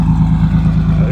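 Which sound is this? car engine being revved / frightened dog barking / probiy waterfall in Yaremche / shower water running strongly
car engine being revved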